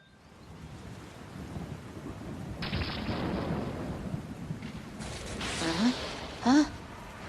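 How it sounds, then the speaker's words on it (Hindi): Steady rain falls with low rumbles of thunder rolling underneath in an animated cartoon scene, building in intensity, with a few sharp, brief sounds near the end. "बारिश होने लगी, तुमने मुझे जगाया क्यों नहीं?"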